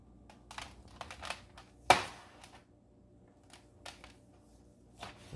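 A knife draws through grilled Sonoma County tri tip against the grain, giving soft scraping strokes and light taps on a board, with one sharper knock partway through; fairly quiet and close, no talk.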